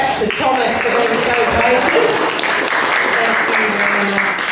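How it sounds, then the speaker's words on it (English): An audience at a children's story session claps for Thomas, a full, steady round of applause with voices mixed in beneath it. "We give a clap to Thomas for being so"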